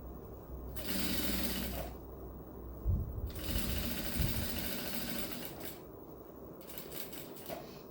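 A sewing machine runs in several bursts while stitching a Seminole patchwork rug, a close, fast mechanical chatter starting and stopping with brief pauses, no talking.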